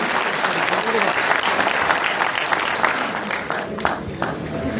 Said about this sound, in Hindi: जोर से तालियां बजाएं चंदौली के लिए